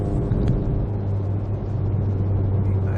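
At a steady 3000 RPM, the Baun Performance exhaust produces a heavy, booming in-cabin drone, a deep constant rumble with a pronounced low tone, loud and unbroken.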